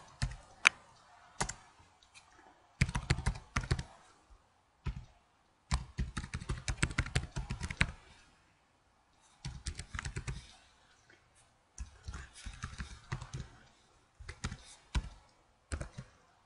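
Bursts of keyboard typing, quick clattering keystrokes in clusters separated by short pauses, close and fairly quiet.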